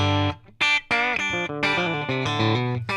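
An electric guitar plays through a Deluxe Reverb amp model and cabinet with the other effects switched off. It is a close, clean phrase of distinct picked notes and short chords with sustained, ringing tones.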